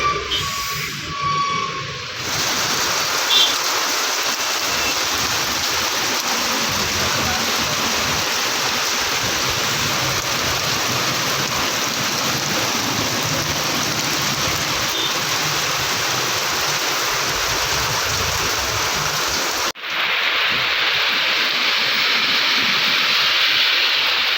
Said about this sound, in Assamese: বহুত বৰষুণ ঠাণ্ডা থাকিব পৰা নাই